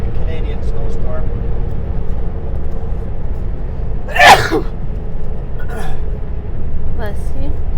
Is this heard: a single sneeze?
yes